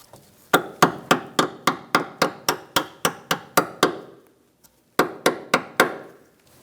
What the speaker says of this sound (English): Now we can put our spring clip in this bracket to hold the brake hose in.